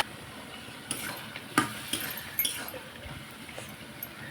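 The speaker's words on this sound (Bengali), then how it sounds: "সামান্য একটু জল দিয়ে ভেজে নিব।" Spices frying with a splash of water in a pan for an ash gourd curry, a soft sizzle beneath intermittent metallic spoon clinks and scrapes, close and quiet with no speech.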